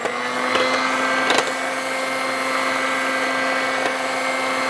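A steady mechanical whir with a constant tone runs under faint scraping and tapping as French toast batter with added vanilla is mixed, close and continuous with no speech.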